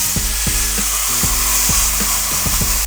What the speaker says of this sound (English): chunk of butter out and put it in a hot pan on medium high. Listen to that sizzle.